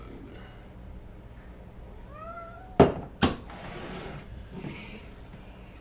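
A house cat gives a short, rising meow close by, followed by two sharp knocks, with a few quiet words spoken just before.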